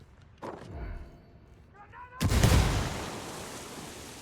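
A frag grenade goes off in a video game: after a few soft thumps, one loud, close blast bursts out and its rumbling roar slowly fades.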